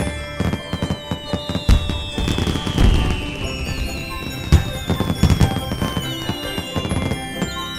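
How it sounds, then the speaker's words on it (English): Fireworks go off in a dense burst of loud pops and crackles. Rising whistles from launching shells streak through the sound, with irregular bangs continuing throughout. "Look, they launched some fireworks just for you."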